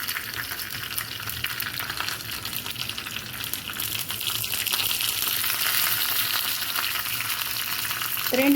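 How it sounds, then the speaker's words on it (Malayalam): Washed, still-wet curry leaves dropped into hot oil while tempering an ash gourd buttermilk curry, a loud, hissing sizzle with spattering that swells stronger partway through and keeps crackling steadily, with no talking. "അപ്പം ഞാൻ വേപ്പില ഇടാണ് ഞാൻ നീങ്ങി നിൽക്കും"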